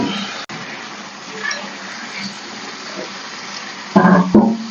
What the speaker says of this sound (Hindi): लहसुन में ये मैं चिकन डालूंगी अब।